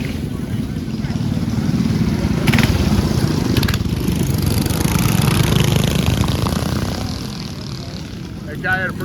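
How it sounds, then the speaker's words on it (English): Small mini bike engines racing at an outdoor event in Symco, Wisconsin, a loud continuous buzzing drone that swells and fades as bikes pass, with faint crowd noise and a brief voice near the end. "That guy had a pretty fast mini bike."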